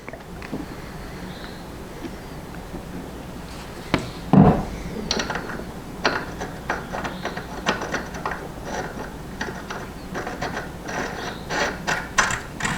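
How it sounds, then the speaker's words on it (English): Threads being chased with a half-13 die turned by vice grips on the bolts of a 100-year-old safe, giving repeated metallic ratcheting clicks and scrapes, one sharp knock near the start, with no talking. "I've got my half 13 die here, and I'm just going to chase the threads on all of them"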